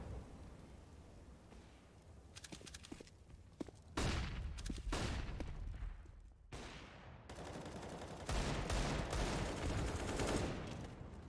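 M4 rifle spray gunfire in Counter-Strike on the Overpass map, dense bursts of rapid shots that come in loud clustered volleys with short gaps between, over faint background game ambience.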